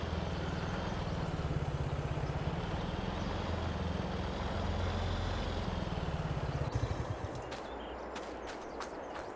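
A truck engine in Farming Simulator 22 drones steadily under load while hauling a heavy trailer of corn, a close, continuous mid-pitched hum that drops away near the end.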